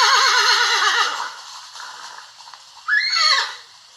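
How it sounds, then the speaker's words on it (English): A horse whinnies loudly and close with a wavering, tremulous call that fades, then a second shorter rising whinny follows after a quiet gap. "It's a horse."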